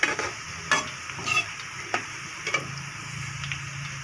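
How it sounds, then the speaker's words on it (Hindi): Whole bay leaf, cumin seeds and cinnamon crackle and sizzle in hot oil with lightly browned onions while being stirred for chana pulao, with steady frying hiss and several sharp spoon scrapes and clicks up close. "अब इसमें तेज़पात, साबुत ज़ीरा, दालचीनी डाल देंगे"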